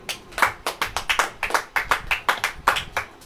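A congregation claps in a brisk, roughly steady rhythm, about fifteen sharp, close hand claps in a little over three seconds, with no voices over them.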